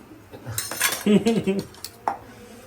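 A steel bowl and metal utensils handled in a home kitchen while making a chutney: a quick cluster of clinks, scrapes and ringing taps, close and moderately loud, with a final sharp knock.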